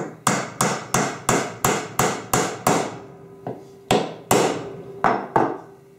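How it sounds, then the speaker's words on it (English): A hammer drives nails into the top bar of a wooden deep beehive frame: about a dozen sharp, loud knocks, evenly paced at first, then slower and spaced apart, close by with no talking. "Take another 1 inch or 1 1/4 inch nail and nail on the top bar."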